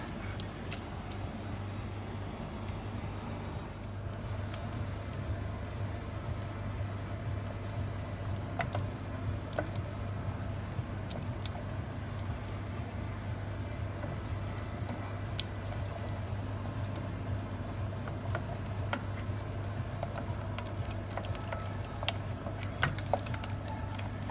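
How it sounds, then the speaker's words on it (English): Milk is poured into a béchamel sauce and stirred, giving a soft, steady liquid patter and sloshing over a constant low hum, with faint clinks scattered throughout. "We'll finish off with the rest of the milk, and then again give that a really good stir."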